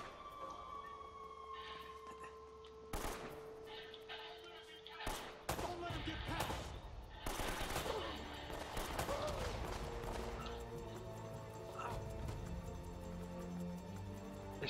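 Gunfire in Uncharted: Drake's Fortune arrives as a few sharp, scattered shots and bursts with metallic impacts and clatter amid low game ambience, fairly faint overall.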